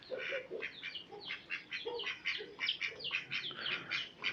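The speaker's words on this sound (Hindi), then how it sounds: "ये बतखों का काम चेक करें, इनको अब मस्ती चढ़ी हुई है।" A group of farmyard ducks quacks repeatedly in a busy, overlapping chorus at moderate distance, with no talking over them.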